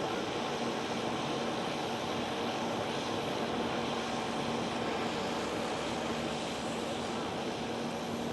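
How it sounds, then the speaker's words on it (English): An Etihad Cargo aircraft taxis across runway 24 at Amsterdam Schiphol, its engines a steady, distant drone that holds evenly from start to finish. "Etihad Cargo isn't going to line up on runway 24. It's going for runway 18 left. It just had to cross runway 24."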